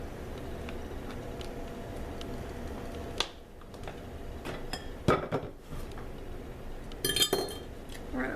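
Mixer beaters caked with honey from making honey lemon curd being cleaned, scattered metallic clinks and taps against a bowl, with a cluster of sharper rattles near the end over a low background hum.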